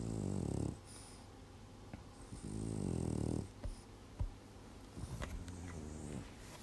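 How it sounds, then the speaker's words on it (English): Dog named as snorting and snoring, giving several loud, throaty snoring breaths in a slow rhythm, close up, separated by quieter snuffling and small snorts, with no talking. "Snort, snort. Snore, snore."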